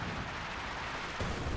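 A World War II strategy game's artillery concentration barrage rumbles as a continuous low roar of distant shellfire, with a heavier thump near the end of the short stretch.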